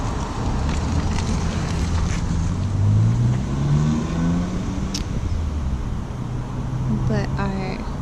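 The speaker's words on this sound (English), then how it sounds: "So we do have some wind here." Wind blowing outdoors makes a steady, loud broadband rush across the whole stretch, swelling slightly at times, with faint tonal background noise mixed in.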